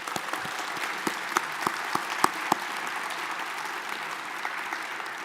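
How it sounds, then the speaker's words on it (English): An audience applauds Omaha Performing Arts at a live event, a modest crowd whose individual sharp hand claps stand out over a steady bed of clapping that carries through the whole stretch. "give Omaha Performing Arts a round of applause"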